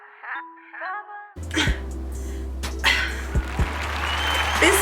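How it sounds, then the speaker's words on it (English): A canned applause sound effect bursts in after a short spoken intro and runs loud and continuous for several seconds over a low steady hum, with a few sharp knocks inside it. "Stop the applause."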